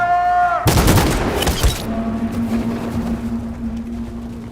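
Sudden dense volley of gunfire in Detroit: Become Human, a burst of overlapping shots lasting about a second, loud and close, followed by a low sustained hum.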